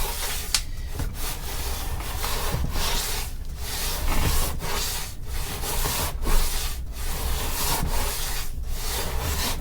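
A hand planer shaves a wooden guitar neck in steady back-and-forth strokes, each a close, rough scraping rasp repeating about once a second without pause or talking.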